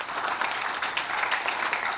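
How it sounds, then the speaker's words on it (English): A seated audience at a University of Lagos Business School event applauds Professor Abdul Hamid Sulaiman, head of the school's journal, with a steady, dense wash of clapping that holds for the whole stretch. "Please give me a round of applause."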